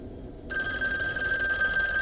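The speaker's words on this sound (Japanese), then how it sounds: "電話来た。" A telephone in the horror video game Devotion starts ringing abruptly and keeps up a steady, bright electronic bell tone, loud and alone over low background ambience.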